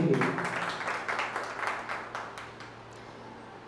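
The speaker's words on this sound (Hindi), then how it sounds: "जोरदार तालियां बजाइए भाई आशीष जी के लिए" Audience applause for poet Aashis at a rural kavi sammelan, a burst of clapping that starts fairly loud and thins out over a few seconds into scattered claps.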